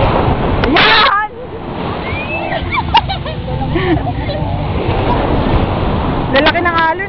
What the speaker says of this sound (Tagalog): Lalaki ng alon, ah.